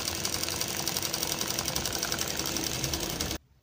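Sewing machine running fast and steady, stitching a hand-made professional design onto a shirt, with a dense continuous whir that stops abruptly near the end; no talking.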